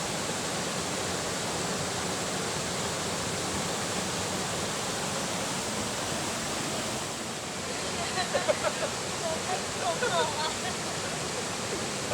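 Steady, full roar of Man Daeng waterfall at Phu Thap Boek, a broad continuous rush of falling water close by, with faint voices briefly surfacing near the end.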